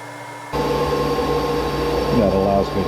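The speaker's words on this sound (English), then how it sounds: "So that lets me sand right up to the line, and this will allow me to spin." A power sander grinds across wood for an Adirondack chair, a loud steady motor whine starting abruptly, with pitch shifting near the end as the tool works the edge.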